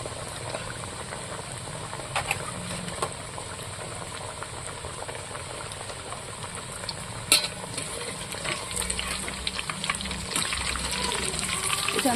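Chicken wings and drumsticks frying in oil over low heat, a steady soft bubbling sizzle with faint crackles and a brief stir, continuous and close throughout.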